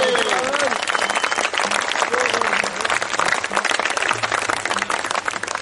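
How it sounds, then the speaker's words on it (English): Guests at a cricket sixes tournament dinner clap in a busy, continuous round of applause, with voices and some cheering mixed in over the clapping throughout. "Simon Burgess, please stand up and take a round of applause."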